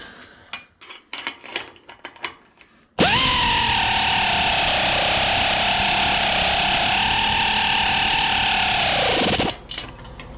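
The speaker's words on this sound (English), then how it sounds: "and the air wrench goes underneath." An air impact wrench tightening a bolt on a farm harrow during an overhaul, starting abruptly after some clanking and running as a loud, steady, high whirring buzz for about six seconds before cutting off, close by.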